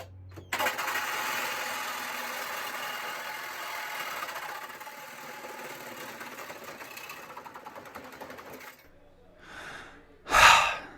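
A cordless saw cuts through a thin metal closet door track, a steady loud grinding whine that runs for about eight seconds before cutting out as the battery dies, followed by a couple of short breathy bursts.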